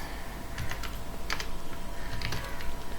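Steady computer keyboard typing during Flutter coding, a few sharper key presses standing out, likely including Enter, close and moderately loud with no talk.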